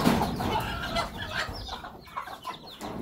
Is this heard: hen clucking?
yes